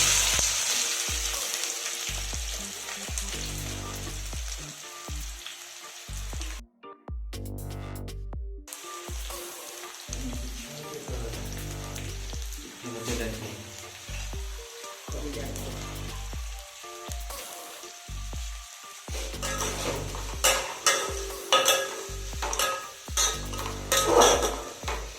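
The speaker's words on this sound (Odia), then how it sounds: "ଏବେ ଆମେ ଏଥିରେ ପିଆଜ ଆଡ଼୍ କରିବା।" Sliced onion hits whole spices frying in a pot for chicken curry, bringing loud sizzling with repeated metal clatter of a spoon stirring against the pan; brief gaps appear and the sizzle swells again near the end.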